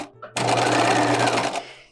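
Sewing machine stitching around the neckline of a bodice: a steady, loud run of rapid stitching that lasts about a second and a quarter before slowing and stopping, close up with no talk.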